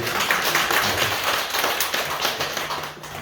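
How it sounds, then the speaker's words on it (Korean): A church congregation at a Sunday service in a Korean church in Banghwa-dong claps in a dense, steady round of applause, all the way through and with no speech over it. "박수 한번 주세요"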